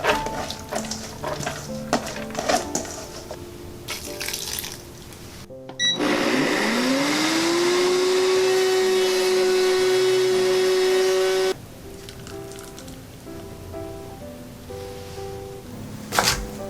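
A blender grinds soaked mung beans with a little water at close range for several seconds, its motor whining up to a constant pitch before cutting off abruptly.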